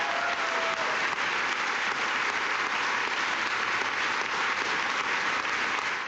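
A crowd applauds during a political speech, a broad, even roar of clapping that holds steady and loud for about six seconds without pause.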